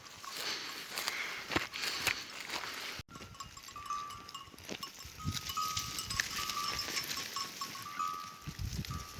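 A herd of goats moves nearby, hooves shuffling and tapping with occasional bleats, a bell ringing steadily through the scene.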